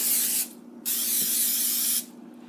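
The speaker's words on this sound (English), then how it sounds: "I'm just going to lightly spray these pans with baking oil" Two bursts of hissing aerosol baking oil sprayed onto pans, a short one and then a longer one, close to the microphone, with a faint hum underneath.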